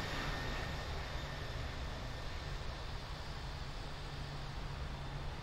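Aircraft engine drone in the Infinite Flight game as a plane comes in to land at Geneva Airport, a steady, faint, broadband roar with no talk.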